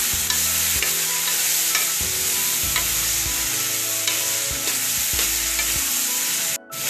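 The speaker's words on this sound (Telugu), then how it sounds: "ఒక నిమిషం లాగా తాలింపులు వేగనిచ్చేయండి," A ridge gourd curry with sesame flour gets its tempering of spices frying in a pan, a steady close sizzle broken by repeated scraping stirs of a spoon against the pan.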